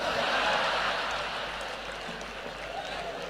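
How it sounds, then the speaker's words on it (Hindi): An audience claps loudly and steadily throughout, a dense wash of many hands at a live Hindi talk or recitation event, with no pauses. "समापन पर तालियां जोरदार बजा देना"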